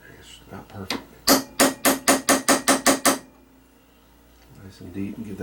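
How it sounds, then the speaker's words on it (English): Eight sharp metallic hammer strikes on a center punch marking a metal arbor for drilling, in a quick, even rhythm, close and loud, with faint clatter before and after. "I'm getting ready to center punch this."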